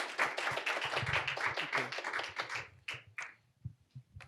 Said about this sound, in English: Right now, I would like to request your round of applause to Mr. Jack, please.